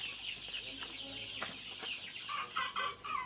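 One-month-old native chickens on a farm, clucking in a string of short repeated calls close by, with a brief busier burst of clucks near the end.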